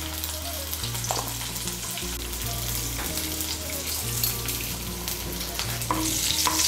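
Chunks of potato tossed with salt and turmeric fry in hot oil, a dense steady sizzle that holds close and even throughout, with occasional stir scrapes and a low hum running underneath.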